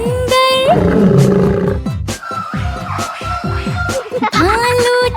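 A lion roars in an animal cartoon, with rough, sweeping growls over a bouncy children's jungle song that has singing and repeated rhythmic beats throughout.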